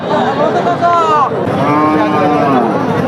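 Several cattle moo loudly in overlapping, drawn-out calls amid a busy market crowd, with continuous background chatter.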